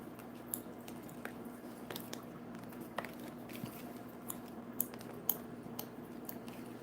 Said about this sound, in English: I'm chewing the hell out of this gum, ain't I?